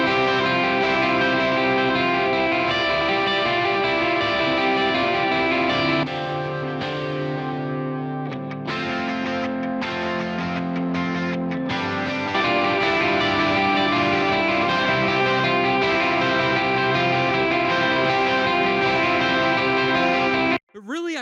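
Four layered electric guitar tracks play together in a worship-style song chorus mix, dense and sustained with effects and distortion, continuous and loud for about twenty seconds before stopping abruptly.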